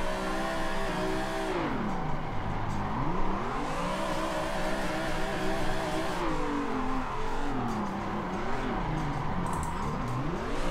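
Race car engine in the Assetto Corsa driving game during a drift, revving loud and steady with rising and falling pitch sweeps as the car slides and shifts into second gear, no speech.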